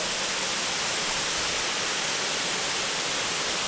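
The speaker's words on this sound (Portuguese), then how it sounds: "Dá uma olhada nessa cachoeira, Zé." A waterfall roars as a dense, steady rush of broadband water noise, loud and close, with no voices over it.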